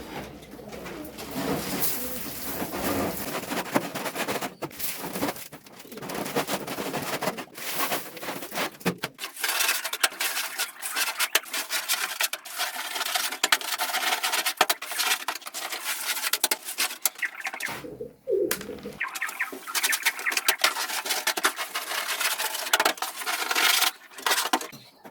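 Pigeons coo in a loft among dense, rustling background noise, with soft repeated calls and scattered knocks and scrapes of birds moving about on wood, close by and continuous.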